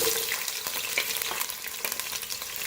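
Onion frying in half a cup of oil for green moong dal khichdi, a steady close sizzle with light crackles and occasional stirring scrapes throughout, no voices.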